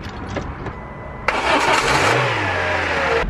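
A car engine left unused for months and with a dead battery cranks after a short stretch of background noise, then catches and settles into a rough, steady idle close by.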